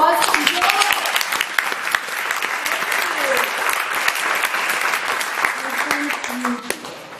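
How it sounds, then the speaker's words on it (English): An indoor audience applauding for Joy, dense steady clapping from many hands lasting the whole stretch and tapering near the end, with a voice faintly heard beneath. "Can we all please give a warm round of applause to Joy?"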